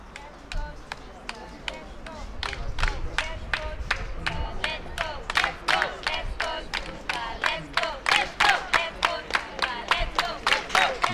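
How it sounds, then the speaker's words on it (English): Spectators at a junior ITF World Tennis Tour singles final urge on their player with loud rhythmic claps and shouts, growing steadily louder and more insistent over a murmuring crowd, with voices audible throughout. "You can hear the crowd there just urging on their player"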